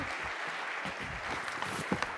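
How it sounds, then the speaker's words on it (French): Faint, steady applause fills a theatre as an audience welcomes a volunteer onto the stage at a mentalist show, with a few sharper claps near the end. "on peut vous applaudir"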